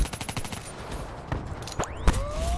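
Shotgun fire in a Black Ops 3 free-for-all match: a rapid string of sharp shots at first, then a few heavier, louder blasts spaced apart, with no talk.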